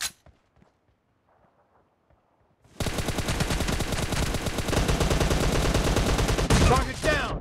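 Rapid automatic M416 rifle fire in a shooter video game: a few faint clicks and thumps, then a sudden sustained loud burst of close gunfire running to the end.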